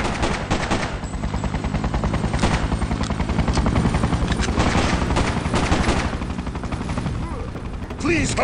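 Dense rapid automatic gunfire in the Freedom Fighters video game, loud continuous bursts of shots with a mechanical whirring drone underneath, easing slightly near the end.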